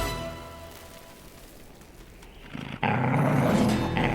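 A gang of Chihuahuas in a movie scene growls and snarls over a low rumbling background, which swells suddenly into a loud, dense roar of many voices near the end.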